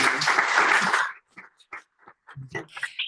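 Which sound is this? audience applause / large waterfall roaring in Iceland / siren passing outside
audience applause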